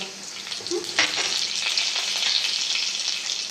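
Mustard seeds hitting hot oil already crackling with cumin during tempering, a bright, dense spluttering sizzle close by that swells briefly near the start and then crackles on steadily.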